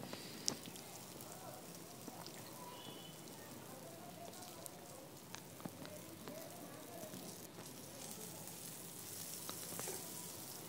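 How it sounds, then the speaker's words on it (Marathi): Besan-stuffed green chillies fry in a pan, a soft, steady crackling sizzle at low level with small scattered pops throughout, under someone talking. "अगदी क्रिस्पी होईपर्यंत आपल्याला ह्या मिरच्या परतून घ्यायच्या आहे"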